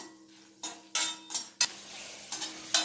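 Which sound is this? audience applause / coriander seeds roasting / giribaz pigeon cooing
coriander seeds roasting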